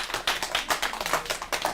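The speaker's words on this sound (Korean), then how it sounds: "박수 한번 쳐주시고요" A small group applauds at a camping safety class on fractures and splinting, dense rapid clapping from several hands, close and continuous.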